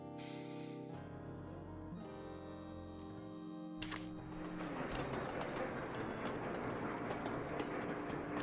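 A train in a video game rumbles along with a low mechanical drone, then grows into a noisier rolling clatter after a couple of sharp clanks.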